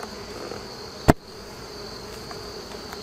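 Honeybees hum as they are shaken off a hive part during mite treatment, a steady close insect drone with one sharp knock partway through, no talk.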